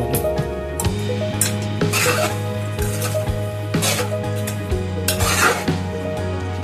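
Tomato is stirred into goat boti curry in a pan, with repeated scraping and clinking of a spoon against the metal over a soft steady sizzle, close and continuous with periodic louder strokes.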